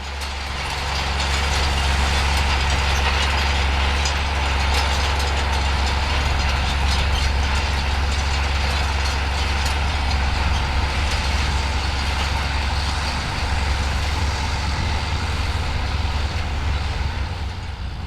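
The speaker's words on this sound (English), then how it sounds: "rolling some more ploughed land with a 9-metre set of Hunt Manifold triple gang rolls" A John Deere 4055 tractor pulls a 9-metre set of Hunt Manifold triple gang rolls across ploughed land, its loud, steady engine drone and deep rumble continuing for the whole stretch with no voices.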